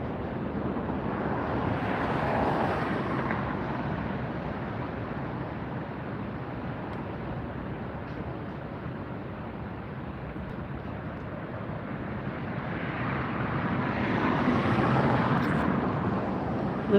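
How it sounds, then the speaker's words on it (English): Lufthansa Boeing 747 in retro livery taking off from Los Angeles LAX, its engine roar rumbling at moderate distance, swelling early, easing in the middle, then building again toward the end, with some wind buffeting and no speech. "Lufthansa 747 with a retro livery. Yankee Tango up in the air."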